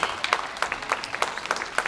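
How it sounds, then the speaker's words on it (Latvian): Audience applause in a ballroom after a slow waltz at a 2013 sport dance competition, a short burst of scattered, fairly dense clapping at moderate distance with no voices. "Pateicamies dejotājiem ar aplausiem par nodejoto deju Lēno valsi."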